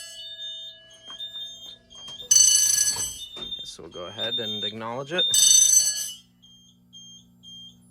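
A Simplex 4100ES fire alarm system sounds off in a basement: a steady high alarm tone continues throughout, with two loud bursts of horn blasting between quieter stretches, while someone talks over it.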